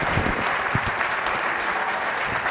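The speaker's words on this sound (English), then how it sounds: "One more round of applause for our guests." Audience at a public safety forum in Minnesota applauds the guests, a dense, steady wash of clapping from a room of people lasting a few seconds.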